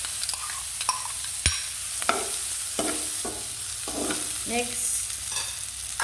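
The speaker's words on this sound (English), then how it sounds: "Guys, butter is hot. I'll put in some onions there." Onions sizzle steadily in hot butter in a pan for Cameroonian fried rice, a close, continuous hiss broken by sharp clinks and scrapes of stirring. A voice speaks one brief word.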